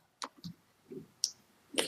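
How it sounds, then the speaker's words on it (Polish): Computer mouse clicks in a visual editor, a few short, sharp, quiet clicks spaced irregularly in a near-silent room. "Klikam, że tak."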